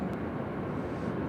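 A Southwest airliner landing on the center runway at Nashville International Airport, heard as a steady, broad, low engine roar that continues unbroken throughout, with no voices over it.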